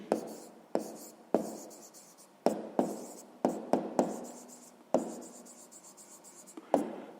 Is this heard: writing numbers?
yes